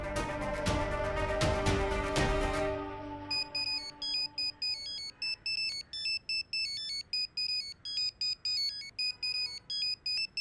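A mobile phone rings with an incoming call, a repeating electronic ringtone of short bright beeping bursts in a steady rhythm, following a louder musical passage that cuts off.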